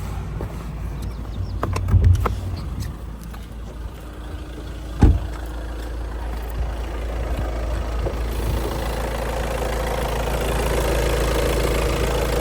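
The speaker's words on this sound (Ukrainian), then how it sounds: "Двигун працює рівненько." A 2.0-litre 110 kW VW Sharan engine idles steadily with a low, even rumble, a couple of brief clunks early on, and no talking.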